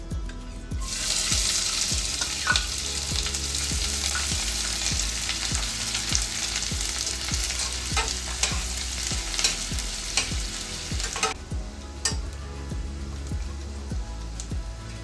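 Chopped onions with black peppercorns hiss loudly in hot oil for a chicken stock, a strong close sizzle broken by regular scraping clicks of stirring, easing off briefly toward the end.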